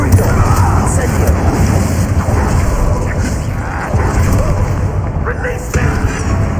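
Explosive spell blasts from Hogwarts Legacy, a Harry Potter video game, roll as loud continuous booming rumbles under spoken voices.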